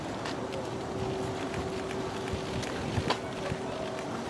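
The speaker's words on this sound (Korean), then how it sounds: "아우 바람." Gusty wind buffeting the microphone outdoors during a morning arrival outside a music broadcast studio, a rough constant rumble with faint scattered thumps and crowd noise beneath.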